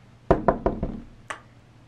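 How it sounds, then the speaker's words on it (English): Knuckles rap on a wooden surface indoors: four sharp, close knocks in quick succession, then a lighter fifth knock after a short pause, with no voices. "let me knock on wood again."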